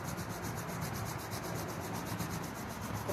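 Palms are rubbed briskly together during a meditation and breathing practice, making a steady, close, dry swishing friction that stays even throughout without speech.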